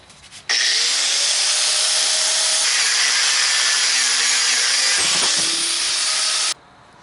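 A power saw cutting metal crucible tong pieces in half, a loud continuous high grinding whine that starts abruptly, holds steady with slight pitch shifts for about six seconds, then cuts off.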